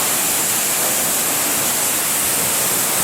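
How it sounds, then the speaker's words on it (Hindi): Pradhanpat waterfall in Deogarh, Odisha, in flood, roars as a dense, constant wash of falling water, loud and close with no let-up and no voices. "ये प्रधान पाट जलप्रपात"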